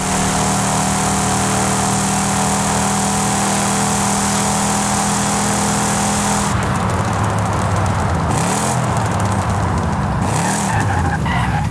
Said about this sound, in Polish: to jest standardowy samochód. Ford F100.